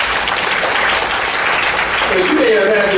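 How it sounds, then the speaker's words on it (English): Conference audience applauding at the opening of a minority aging institute, a loud, dense, steady wash of clapping from a large room that swells slightly toward the end, with faint voices mixed in. "Give yourselves a round of applause for being here."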